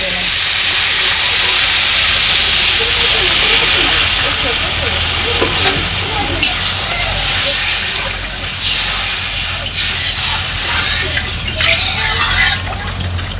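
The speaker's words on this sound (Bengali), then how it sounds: "জল ফুটে গেছে" Water comes to a boil in a pan for fish curry, a loud steady hiss and bubbling that fills the clip with occasional clatter, while a voice speaks faintly underneath.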